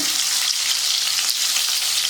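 Onions cook in oil in a kadhai with a steady, dense sizzle, close and continuous with no pauses and no voices.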